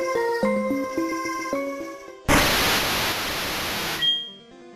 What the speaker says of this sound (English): the sound very well could have just been radio static, as the Team Rocket recruits call out to him